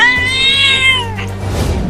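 A cat meows loudly and close in a domestic comedy scene, one long drawn-out tonal call followed by a shorter fading one, with no talk over it.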